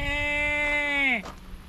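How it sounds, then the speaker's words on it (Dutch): A sheep or goat bleat at a nature and senses park in Almere: one drawn-out, harmonic bleat lasting over a second, close and fairly loud, with a faint voice murmuring underneath. "Daan, heb jij ook de schaap en de geitje gezien"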